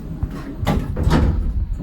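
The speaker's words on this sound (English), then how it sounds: "Doors closing." Lift doors in a Tunbridge Wells shop, an Otis lift later modernised by ThyssenKrupp, slide shut with a soft rumbling glide and muffled thuds, heard close and moderately loud.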